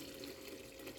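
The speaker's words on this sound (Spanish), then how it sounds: "Vamos a echarle un poquito más de agua." Water poured into a cooking pot of simmering wood pigeons for escabeche, a brief, faint, continuous rushing pour with no talking.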